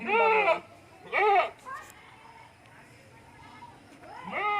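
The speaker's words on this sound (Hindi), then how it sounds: "ये 12 बकरे आज लेके आए हूँ आप सब दोस्तों के लिए" Goats for sale at a goat farm bleat loudly in two close, strong cries, with a third bleat starting at the end over a quieter farmyard background.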